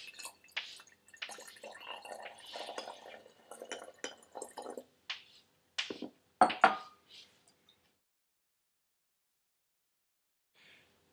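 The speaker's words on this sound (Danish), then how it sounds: "så tilsætter vi vores H2, vores vand, og så ryster vi, så sukkeret bliver helt opløst" A glass flask of sugar and water for alcohol fermentation is shaken by hand, giving bursts of sloshing and clinking liquid that fade into silence, with a faint knock near the end.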